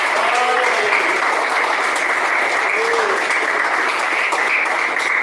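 A church congregation claps hands in praise during a sermon, dense and loud continuous clapping that holds steady throughout, with faint voices mixed in underneath.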